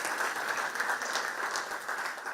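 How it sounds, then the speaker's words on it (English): Applause from an audience for primary and secondary learner council members at a school celebration: a short, even burst of many hands clapping, moderately loud throughout. "Huge round of applause for them."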